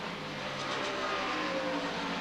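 IMSA GTP prototype race cars, including a V6 Nissan and a Toyota, running at Lime Rock Park in 1991, a faint, distant, steady engine drone with no clear pass-by.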